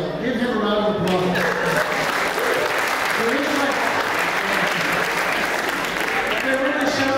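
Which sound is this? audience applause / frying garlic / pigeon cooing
audience applause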